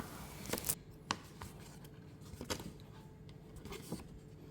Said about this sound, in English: Starting with that slight curve, continuing to cut off the extra.